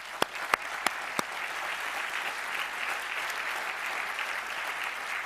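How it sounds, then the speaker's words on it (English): Audience applause at a 2022 ELTons Innovation Awards ceremony, opening with a few sharp isolated claps and then swelling into steady, moderately distant clapping from a large crowd that continues to the end. "A round of applause for them,"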